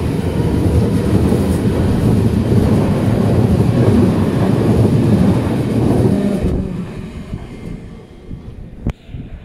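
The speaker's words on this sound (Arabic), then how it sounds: "تمام، هذا هو القطار." A train rumbles loudly and close through a German railway station, then the heavy roar fades away, leaving quieter platform ambience and a sharp knock near the end.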